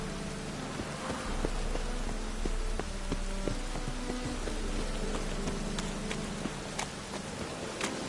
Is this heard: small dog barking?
no